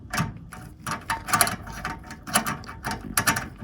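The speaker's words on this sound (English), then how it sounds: "go ahead and screw it in and secure it" Screwdriver turning a screw into an aluminum furnace part, giving a quick series of close, rhythmic ratcheting clicks and scrapes in short bursts with no talk.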